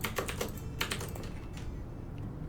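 Fast bursts of computer keyboard typing during coding, close and crisp at first, then thinning out into quieter, scattered key presses.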